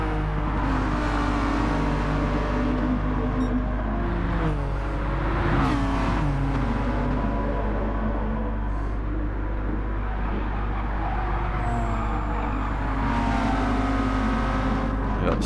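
A NASCAR race car engine roars on the final lap at Atlanta in Gran Turismo 7, a steady droning engine note with shifting pitch and brief surges as cars run close together.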